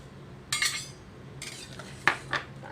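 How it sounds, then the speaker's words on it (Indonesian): Metal utensil stirs squid and shrimp in a pot of tom yam, giving a few sharp clinks and scrapes spaced across a few seconds, fairly close, with no voices. "Nah, sekarang kita aduk. Kita masukkan ya Bu ya, cuminya dalam. Kemudian udang kita masukkan."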